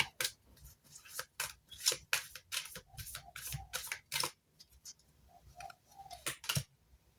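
Tarot cards being shuffled by hand: a quiet series of crisp, papery snaps and flicks in irregular bursts, close up, with no talking.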